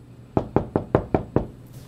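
Six evenly spaced knocks on a door, crisp and close, rapping in a steady rhythm before falling quiet, with no voices over them.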